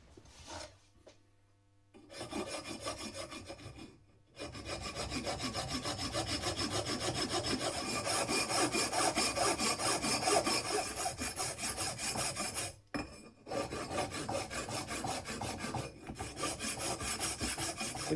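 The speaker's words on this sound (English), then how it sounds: "file them down with my coarse file until it's smooth with the existing fins" A coarse file rasps in fast, even strokes across the cast engine fins of a Kawasaki Z1, scraping loudly in long runs broken by a few short pauses.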